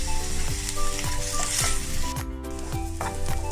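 Curry leaves and coriander leaves sizzling and frying in hot oil while tempering for a Tamil mor kuzhambu (curd curry), a steady close crackling hiss with light stirring scrapes, and no talking.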